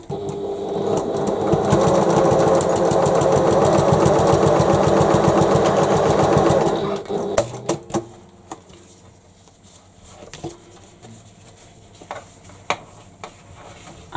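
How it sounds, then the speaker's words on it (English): A sewing machine runs steadily for about seven seconds, top stitching across a tote bag, its rapid needle clatter loud and close, then stops, leaving a quiet room with a few faint clicks and handling taps. "And then I shall top stitch across."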